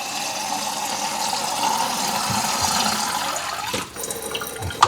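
Water running from a kitchen tap fitted with a water filter into the sink, a steady close hiss and splash that carries on evenly, then breaks off near the end with a few knocks.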